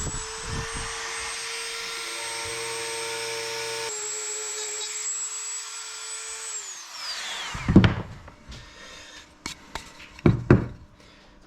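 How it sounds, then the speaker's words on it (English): A small Dremel rotary tool whines steadily at high pitch while cutting a cutout into sapele hardwood, its tone shifting as it bites, then spinning down around the eighth second, followed by sharp knocks and handling clatter. "see if I can do a reasonably clean little cutout in this piece of sapele"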